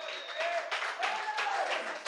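A church congregation claps along with a sermon, a steady dense patter of hands heard across a hall, with a few voices calling out over the clapping throughout.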